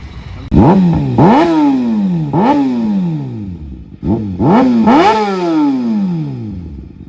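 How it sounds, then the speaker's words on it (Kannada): A Kawasaki Ninja ZX-6R 600cc sport bike revs hard in a series of loud, close throttle blips, each rising sharply then falling away, with a short break midway and no talk. "Kawasaki ZX 6R one of the beast ಇದು ಗಾಡಿ."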